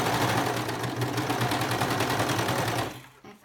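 A sewing machine stitches clear elastic, giving a loud, close, steady mechanical whir with a rapid needle rhythm that cuts off near the end.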